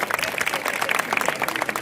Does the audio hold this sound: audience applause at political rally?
yes